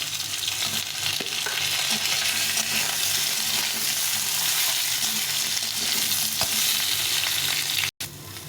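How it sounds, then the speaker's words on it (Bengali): Potato, eggplant and bitter gourd fry in oil with a loud, dense, continuous sizzle, up close, with faint stirring taps and a brief break near the end. "আলু, বেগুন আর উচ্ছেটা ভালো করে একটু ভেজে নিয়েছি তেলে"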